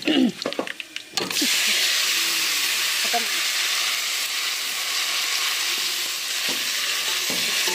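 Chicken and tomatoes fry in a pan in a village kitchen, giving a steady, close hiss of sizzling that runs almost unbroken after a few brief knocks and stirring sounds at the start.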